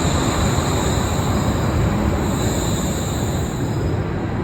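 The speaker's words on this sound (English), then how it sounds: "another train is just coming in" A suspended monorail train in Wuppertal rolls in with a continuous loud rumble and a high whine, steady and close, with no talking.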